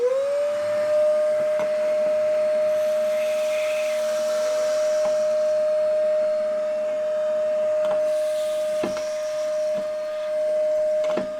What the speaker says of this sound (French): Nous, on le fait à l'aspirateur à cendres.